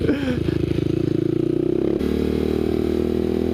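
Honda XR650R motard single-cylinder engine revs loud and close, its pitch shifting as gears change down while riding, then settling into a steady drone.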